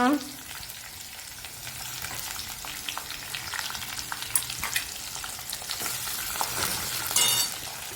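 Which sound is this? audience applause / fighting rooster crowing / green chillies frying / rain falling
green chillies frying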